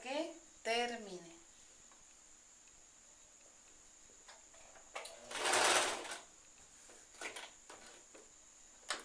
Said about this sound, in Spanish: Poco a poco voy plizando y voy cosiendo.